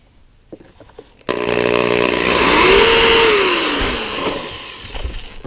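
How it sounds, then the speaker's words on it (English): A drill bores a small pilot hole into a magnet mount, a loud steady whine starting abruptly after a second of quiet, its pitch rising then sagging as the bit cuts, close and continuous to the end. "So we're just going to drill a little pilot hole, taking care not to go into the magnet."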